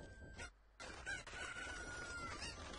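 A cuckoo chicken in the video game Zelda: Ocarina of Time clucks and crows loudly and continuously, with a brief gap near the start, alone without talk.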